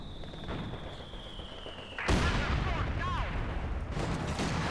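Heavy mortar fire in the Company of Heroes 2 strategy game: a sharp blast and rumble cut in abruptly partway through and roll on over continuous battle noise, with a voice talking over the action.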